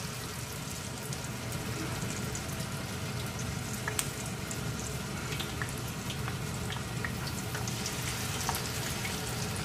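Shrimp coated in batter frying in hot oil in a pan for chili shrimp, a steady dense crackle and bubbling sizzle that runs evenly throughout with small pops near the mic, no voices.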